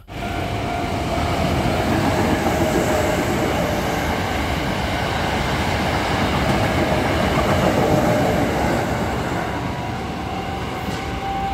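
An Osaka Metro subway train rolls past in Osaka, Japan, a steady loud rumble of wheels on rail with a faint metallic whine running through it for the whole stretch.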